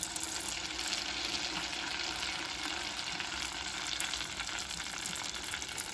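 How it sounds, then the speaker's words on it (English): Rolled food deep frying in hot oil, giving a dense, even crackling sizzle that holds steady throughout, close by and with no voices. "I am just going to deep fry them right in the hot oil"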